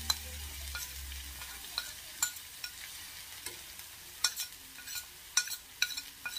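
Ground beef sizzles in a pan while a utensil stirs and scrapes it, with soft continuous frying and a series of sharp scraping clicks that grow more frequent toward the end.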